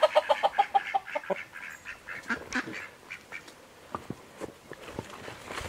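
A run of loud, rhythmic clucking calls up close from Icelandic chickens, then scattered softer squawks and pecking sounds from several birds.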